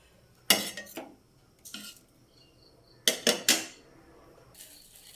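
Appam lifted out of a pan and moved onto a plate: sharp metallic clinks and scrapes of a utensil against the pan come in short separate bursts with quiet gaps between them.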